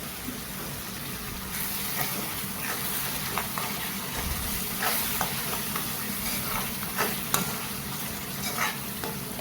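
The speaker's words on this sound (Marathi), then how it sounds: "मसाला छान लालसर होईपर्यंत भाजून घ्यायचं आहे आपल्याला" A masala spice paste roasts in oil over a low flame while it is stirred, giving a steady soft sizzle and hiss close by, with scraping stirs now and then.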